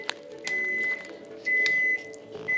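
A microwave oven hums steadily while warming restaurant food, with high electronic tones switching on and off in repeated bursts and faint background activity.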